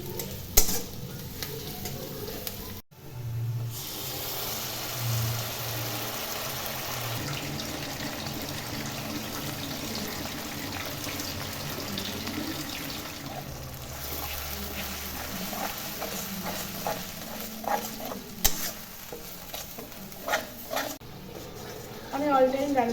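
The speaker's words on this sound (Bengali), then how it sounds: "তো এখন আমি মাংসের মশলাটাকে কষছি" Meat and spice masala being stir-fried in a pan, a steady sizzle with scraping stirs and occasional utensil clinks running throughout, with someone talking over it at moderate level.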